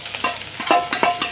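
Chopped small onions (shallots) frying in a pan for fish curry, bursts of sizzling crackle with a few spoon scrapes, close and fairly loud, no voices.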